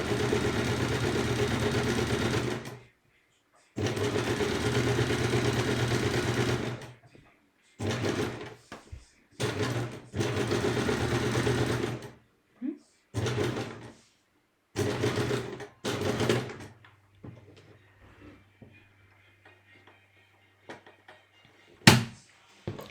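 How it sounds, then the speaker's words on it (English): A sewing machine fitted with a quilting arm runs a straight stitch in long, steady bursts of close mechanical whirring, separated by pauses, small handling clicks and quieter stretches. "So I'm just using a straight stitch all the way through."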